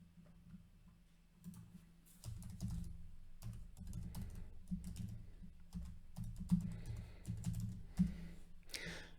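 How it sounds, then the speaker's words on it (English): A password typed on a computer keyboard, a faint close run of irregular key clicks and taps in short bursts throughout, with no talking. "I'm just going to enter my password and username"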